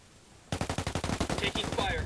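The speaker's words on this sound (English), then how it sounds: "Taking fire." Automatic gunfire in the video game Ghost Recon during a ranked 4v4 PvP match, a quick string of about fifteen closely spaced shots, up close and loud, with players' voices talking over the end.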